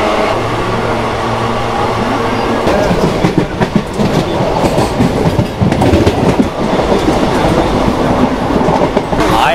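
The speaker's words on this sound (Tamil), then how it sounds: "இப்போ பிளாட்ஃபார்முக்குள்ளே என்ட்ரு ஆகும்போது நல்லா ஸ்பீடு பிக்கப் பண்ணிட்டாங்க" A passenger train enters the Vaniyambadi railway station platform at speed, heard from on board as loud rhythmic clickety-clack of wheels over rail joints with rumble and rattling carriages.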